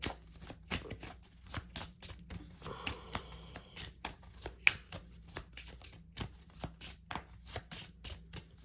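Tarot cards are handled and shuffled close by in a steady stream of crisp riffling snaps and slaps, repeated rhythmically at an even pace with no talking.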